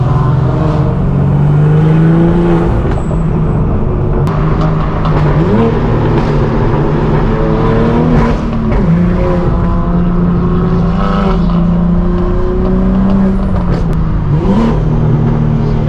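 A straight-piped BMW M4 G82 drones loudly and continuously, its exhaust pitch dipping and climbing through several downshifts with rough, raspy blips, close and unbroken, no voices.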